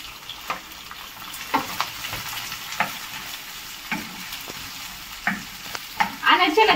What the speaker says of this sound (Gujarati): તો જો આપણે ડુંગળી નાખી દઈશું